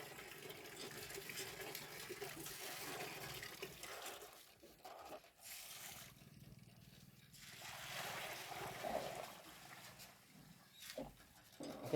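Running tap water flows steadily during washing, faint and continuous with a few brief scraping handling noises, no talk.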